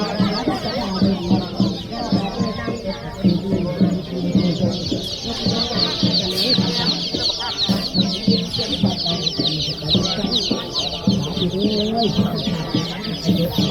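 Many chickens cluck continuously, a busy overlapping chorus of fowl close by with a steady farmyard din throughout.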